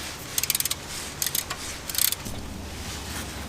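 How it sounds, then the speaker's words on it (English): Square wrench working loose a transmission drain bolt on a vehicle, heard as three short bursts of rapid metallic ratchet-like clicks over a steady low background hum, close and moderately quiet. "So to remove the drain bolt, you can use a simple square wrench like that."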